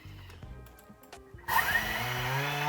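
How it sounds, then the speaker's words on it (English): A Thermomix grinds moringa leaves into powder. After a quieter start, its motor cuts in abruptly partway through and holds a loud, steady whirring roar to the end. "Here I'm using my Thermomix for grinding the leaves into powder."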